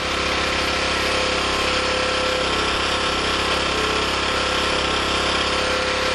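A small generator engine running on HHO holds a steady, continuous mechanical drone, loud and unbroken throughout with no talk.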